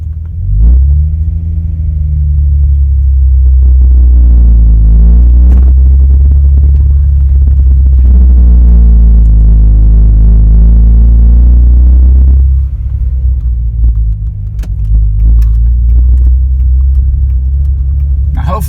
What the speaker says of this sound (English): I'm going to slowly get on the accelerator and come off the clutch